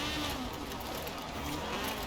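Front-wheel-drive rally car engine from Forza Horizon 4, a loud continuous rasping drone with shifting pitch as it pulls under power, heard alone without talk.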